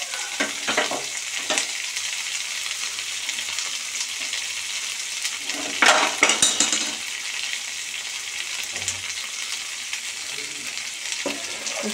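Thinly sliced okra fries on high flame, a loud continuous sizzle with bursts of crackling and occasional stirring scrapes, rising briefly midway.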